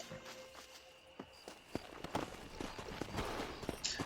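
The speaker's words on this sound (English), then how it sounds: "eu tô indo de cavalo" Horse hooves thud in a loose gallop while riding in the video game Red Dead Redemption, with irregular clip-clop beats growing louder and denser, set against faint ambient game noise.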